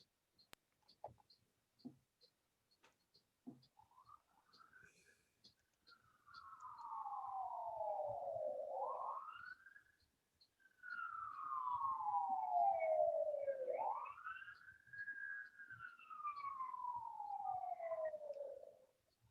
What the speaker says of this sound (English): I'm hearing those sirens